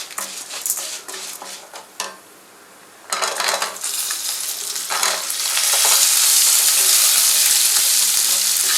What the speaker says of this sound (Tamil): லோ ஃப்ளேம்லேயே வச்சு நல்லா வதக்குங்க